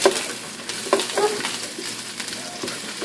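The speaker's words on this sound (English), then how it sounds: "Okay, so you're putting garlic and onions." Garlic and onions sizzle in a hot pan for Filipino home cooking, a steady, close, broadband hiss with a few stirring clatters and no voices.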